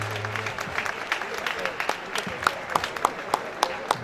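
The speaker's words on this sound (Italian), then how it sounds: "accogliamolo con un bel applauso" Crowd at an outdoor protest rally in Padua against pandemic restrictions applauding, scattered clapping that builds into a steady patter of individual claps, after a brief voice at the start.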